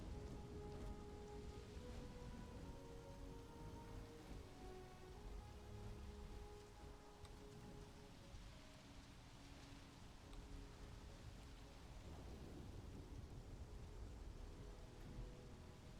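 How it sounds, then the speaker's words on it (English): Steady rain patters continuously with a soft low rumble of thunder underneath, quiet and even throughout with no voices, in the video game Starfield. "love the sound of rain and thunder."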